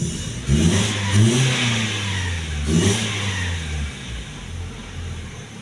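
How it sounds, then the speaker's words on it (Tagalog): A car engine running rough revs unevenly up close, sounding choked, rising and falling in uneven surges before settling toward a rough idle. "Parang nabibilaukan yung makina."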